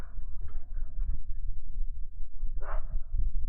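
Two pet dogs, Kaya and Zeke, bark indoors, with one clear bark rising out of a steady low rumble amid faint scuffling.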